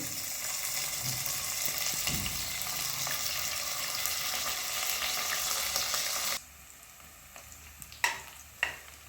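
Onions frying in a pan for a Karnataka-style lady finger palya, a steady broadband sizzle for about six seconds that then drops away, leaving quiet pauses broken by a couple of sharp stirring clinks.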